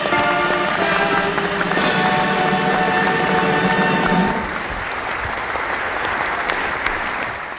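A theatre audience applauds after a Chinese revolutionary opera performance attended by Nixon, Zhou Enlai and Jiang Qing: steady, dense clapping from a large crowd throughout, with a sustained musical tone underneath that stops partway.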